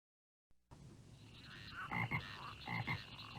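Frogs croak in the 1992 CD-i game The Dark Fables of Aesop, a few quiet rhythmic calls starting after a brief silence and repeating in short clustered bursts.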